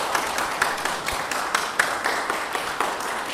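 An audience at a lecture applauds a speaker with steady, even clapping that carries on throughout at moderate loudness, with no talking.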